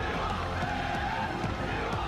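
A large crowd cheers continuously at a Black Ops 6 esports match, a dense, steady roar with scattered whoops throughout.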